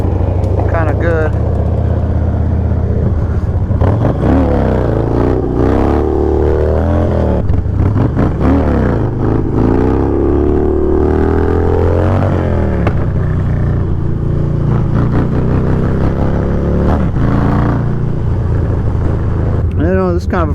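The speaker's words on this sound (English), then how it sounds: "This is kind of a freaky thing to do is wheelie Harley, so just kind of warming up, getting a feel for the bike." A Harley-Davidson motorcycle engine warming up at a stunt lot, rumbling and revving in repeated rising and falling surges, loud and close, with someone talking over it.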